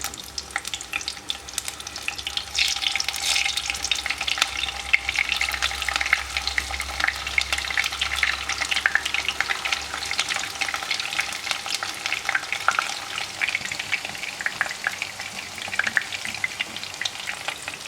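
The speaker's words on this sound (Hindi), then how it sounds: "अब मैं इनको फ्राई करूँगी।" Homemade fish ball sticks fry in hot oil in a pan with a continuous dense crackling sizzle, close and even throughout, and a faint low rumble underneath early on; no one speaks.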